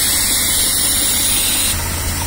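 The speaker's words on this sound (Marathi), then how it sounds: "तुम्हाला दाखवतो का दूध कसं निघतंय या ह्याच्या ट्रॅक्टरच्या इंजिनवर" A New Holland tractor engine runs steadily at idle while powering a milking machine compressor through a pipe on its air cleaner, a loud, close, unbroken drone.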